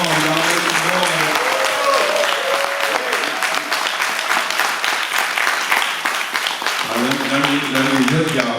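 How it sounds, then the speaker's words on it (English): Crowd at a Kwanzaa celebration showcase clapping and cheering loudly and steadily throughout, with a voice talking over the applause at the start and again at the end. "Y'all come on, clap it up again."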